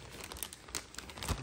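Thin plastic bags crinkle and rustle as they are opened and rummaged through while sorting pelargonium cuttings, a close, steady crackling with sharper bursts and no talk.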